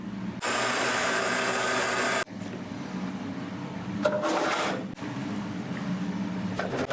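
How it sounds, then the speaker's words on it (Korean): Countertop blender whirring as it blends ten eggs with an equal amount of water, a loud steady motor drone that cuts off abruptly, followed by quieter rattling and handling noises. "믹서기에 그냥 갈아버리세요"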